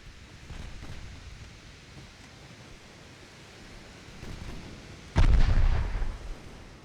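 Six-inch naval guns fire in a warship battle game, a heavy booming blast erupting near the end over a dull background rumble of sea and wind.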